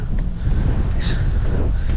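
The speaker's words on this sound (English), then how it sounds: "it's pretty windy on tops" Heavy low wind buffeting a microphone on exposed hilltops, a constant rumbling roar up close, with a faint voice briefly underneath.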